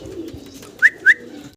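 Pigeons kept as breeding pairs on a farm coo softly and steadily nearby, with two sharper, brighter calls standing out near the end before the sound drops away.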